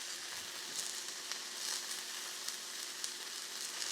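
Mushrooms sizzle and brown steadily in a hot pan, a continuous close frying hiss with small crackles and pops scattered throughout, heard alone without talk.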